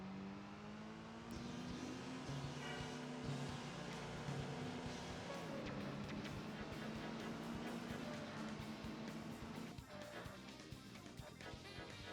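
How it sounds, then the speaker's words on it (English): Car engines roar and rev in the racing video game Driving Emotion Type-S, with a steady drone, rising and falling pitch, and game music underneath. "I think I'm gonna increase the engine sounds and decrease the music a little bit."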